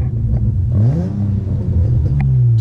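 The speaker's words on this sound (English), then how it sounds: "Let's get out and let's get a little exhaust. You'll definitely hear what I mean, how it's raspy." Exhaust of a 2005 Nissan Altima SE-R with a raspy tone, close and loud, the engine rising in a quick rev then settling back to idle, no voices.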